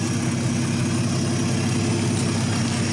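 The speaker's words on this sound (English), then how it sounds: "we got it running off the fuel pump. Setting the bowl slow. I don't see any leaks anywhere. It's running good." 1951 Studebaker engine idling on its fuel pump, a steady low rumbling drone heard close and continuous throughout with no talking.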